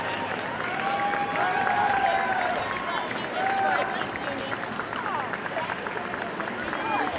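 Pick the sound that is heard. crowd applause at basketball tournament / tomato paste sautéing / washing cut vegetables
crowd applause at basketball tournament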